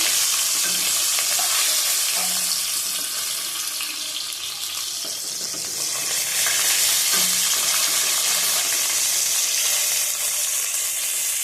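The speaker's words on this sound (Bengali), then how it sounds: "এটা মাথাটা একটু ভালো করে ভেজে দিতে হবে" A bhetki fish head fries in hot oil with a loud, continuous crackling sizzle, close up, while occasional stirring noises rise and fall beneath it.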